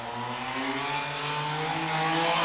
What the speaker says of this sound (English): The exhaust on this thing just sounds so, like, good.